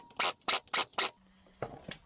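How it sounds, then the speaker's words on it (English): A torque wrench tightens wheel spacer lock nuts on a car, four quick loud ratcheting rasps in a steady rhythm, then a pause and two fainter, shorter clicks, close by. "Torquing the lock nuts to 140 newton meters, like the wheel spacer nuts"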